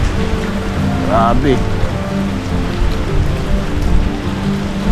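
Steady heavy rain pours onto a neighbour's roof after a storm, a dense continuous hiss close by, while a voice briefly speaks over it.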